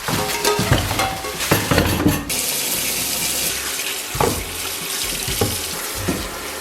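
Tap water runs steadily into a sink while beef marrow bones are rinsed, with clunks and splashes as the bones shift about. The sound is close and continuous throughout.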